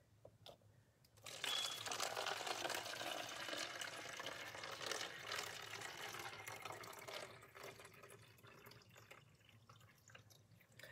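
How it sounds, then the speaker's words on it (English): Slimming tea is poured into a bottle, a close, steady liquid rush that starts abruptly, holds for several seconds and then thins out into a few trickles and drips. "And then I'm going to pour"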